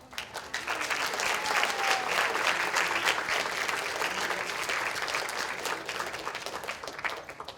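A graduation commencement audience breaks into sustained applause, a dense, steady wash of many hands clapping that swells early and holds at full strength before thinning slightly toward the end.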